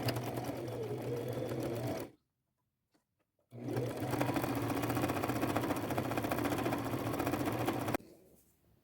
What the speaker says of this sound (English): I will take it to my machine, and I am still going to use that mustard colored thread, but my smallest zigzag stitch